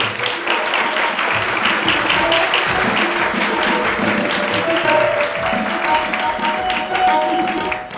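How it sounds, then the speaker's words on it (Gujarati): An audience at a satsang camp gathering bursts into loud, sustained applause, many hands clapping fast and thick for several seconds with no talking on top. "હવે આપણે એકવાર જોરદાર તાળીઓથી"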